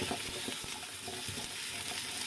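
Vegetables sauté in a soup pot as the base for creamy chicken noodle soup, giving a steady, close sizzle with light stirring scrapes throughout.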